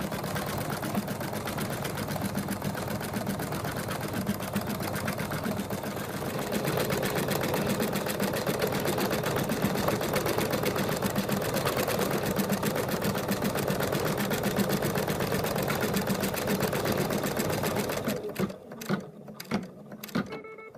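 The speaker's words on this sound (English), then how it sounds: "now it's going to do the quilting in the middle" A home embroidery machine stitches quilting lines across a fabric mug rug with a steady, fast, buzzing needle rhythm close to the microphone, stopping near the end with a few short mechanical clunks.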